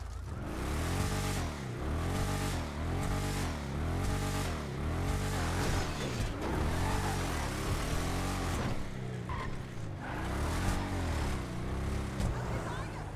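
Declasse Vamos muscle car engine in GTA Online, a loud rhythmic revving that rises and falls in repeated pulls, close and continuous.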